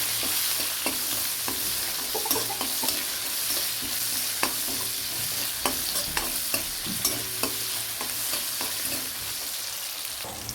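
Onions sizzle and fry with salt in a pan with a constant hiss, while scattered scraping and stirring clicks from a utensil break through at irregular intervals.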